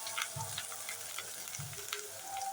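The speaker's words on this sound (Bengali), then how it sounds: "এখন আমি বীজটা দিয়ে এগুলোর সাথে ভেজে নিই" Seeds and vegetables frying in a hot pan, with a steady sizzle and two brief low stirring bursts, close and without speech.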